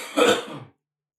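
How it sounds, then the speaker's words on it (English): A single person clears their throat in a short, harsh cough, close and fairly loud, lasting under a second before silence. "I've had to cough for like a while, but I've been holding it"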